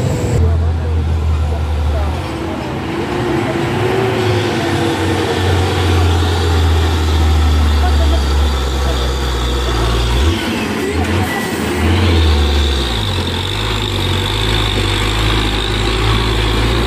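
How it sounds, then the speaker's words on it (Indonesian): Heavy dump truck and other truck engines labour up a steep hill road in Indonesia, a loud continuous low rumble with shifting pitch as gears change, while people talk over it throughout. "Ada saja truk anter sama truk dam bertempetan di tanjakan."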